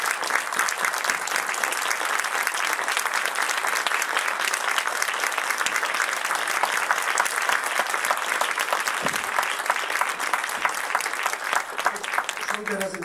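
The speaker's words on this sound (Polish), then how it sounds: "bijmy im brawo jeszcze przez chwilę" A large audience claps steadily through a laureates' concert at the Skamander 2014 event, with sustained, even applause filling the hall from start to finish and no speaking voices.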